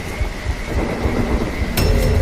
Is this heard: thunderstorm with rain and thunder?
yes